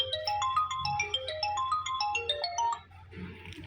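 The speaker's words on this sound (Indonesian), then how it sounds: "ada telepon ya" A phone ringtone plays a bright, repeating electronic melody of quick stepped notes for about three seconds, close and clear with no talk, inside a small musholla prayer room beside the Abdussalam mosque in Purwosari, then breaks off.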